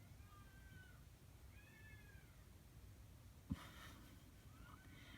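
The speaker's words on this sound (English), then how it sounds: "I think those are cats and not children screaming outside" Cats caterwauling outside a window, several faint drawn-out wailing yowls from some distance, rising and falling in pitch, with a brief knock partway through.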